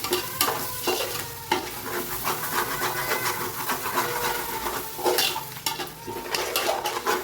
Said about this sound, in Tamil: தக்காளி வதங்கும் போது ஒரு ஹண்ட்ரட் எம்எல் தயிர் நான் ஊற்றிக்கிறேன்